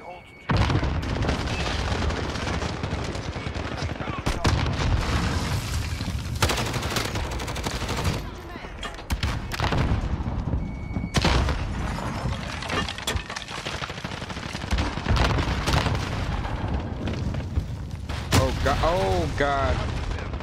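Gunfire in a shooter video game crackles in repeated bursts and single shots with booming hits, dense and loud throughout, while a voice talks over parts of it.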